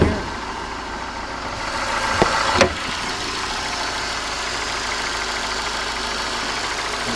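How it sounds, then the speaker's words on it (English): A 2009 Ford Escape four-cylinder engine runs steadily at idle under the open hood, a constant mid-toned hum with a brief louder knock or clunk partway through, no voices. "Pick up the four cylinder, running nice and strong, great on gas."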